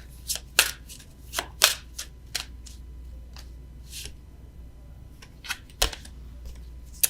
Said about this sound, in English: let me get an oracle card for you